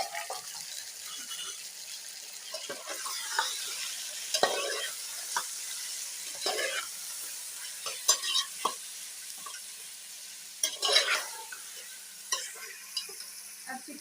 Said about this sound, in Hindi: अब मैं इसमें अपना डालूँगी चिकन।